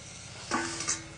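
Onions and spices fry in a pan for a goat meat curry, with a soft, close sizzle and a couple of quick stirring scrapes.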